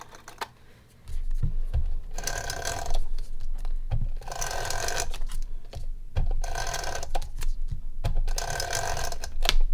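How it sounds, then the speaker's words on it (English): A tape runner laying adhesive onto a card in four long, raspy, ratcheting strokes with brief gaps between them, close and clear with no talk. "So I'm just going to use my tape runner."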